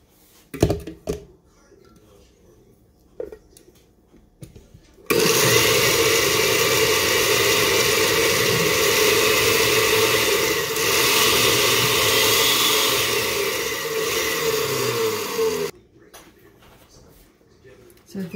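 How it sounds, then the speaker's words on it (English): A blender purees butternut squash soup: after a few quiet knocks, the motor kicks in with a loud, steady whir for about ten seconds, then cuts off abruptly, leaving light handling noises. "It's easy to get to the bottom of this blender and get the blended smooth butternut squash soup out of it."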